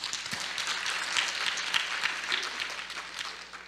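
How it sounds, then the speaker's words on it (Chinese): An audience at the closing ceremony of the HITCON CMT 2017 security conference claps, producing a steady wash of applause that holds for several seconds and thins slightly toward the end. "所以请各位给予掌声"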